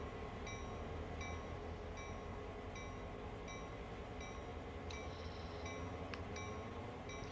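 A locomotive bell in a train simulator video game, clanging in a steady, regular rhythm over a constant engine rumble, and quickening briefly near the end.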